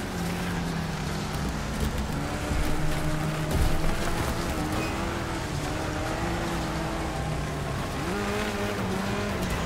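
Car engine revving and roaring with tire noise in the Wreckfest racing video game, a car with only three gears, steady and loud throughout with pitch shifts as it changes gear.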